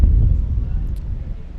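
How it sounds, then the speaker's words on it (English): Strong wind gusting at a baseball game, a loud low rumbling buffet against the microphone that swells at first and then eases slightly over a brief moment. "The wind's probably gusting at about 48 miles per hour"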